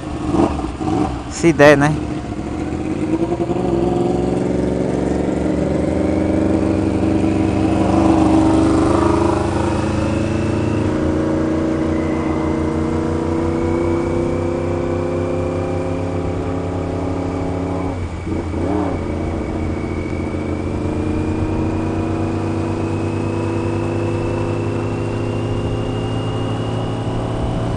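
A 2016 Yamaha R1 sport motorcycle pulls away on the road, its engine revving up with rising pitch and then holding a long, steady drone, while a rider briefly speaks near the start.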